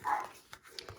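A dog barks a few times indoors during a paper-crafting session, short sharp yelps spaced across a second, fairly faint and distant.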